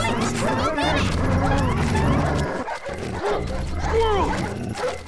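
A cartoon dog in the Up video game barks, yips and whimpers in short bursts over loud game music and effects, with character voices talking throughout.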